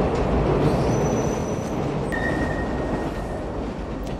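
A Chicago L elevated train from the 1987 film Planes, Trains and Automobiles rumbles steadily and loudly while its wheels squeal in a thin, sustained tone against the rails. No one speaks.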